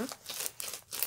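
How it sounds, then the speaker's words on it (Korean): Quiet, close-up zipping sounds of a zipper bag holding slime, a few short rasping strokes in quick succession, with faint crinkling in between. "지퍼 소리 좋네요."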